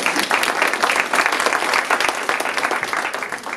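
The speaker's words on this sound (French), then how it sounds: "On l'applaudit d'abord." Audience applause for a speaker at a nutrition and cancer-prevention talk, a steady dense clapping from a crowd filling the room throughout.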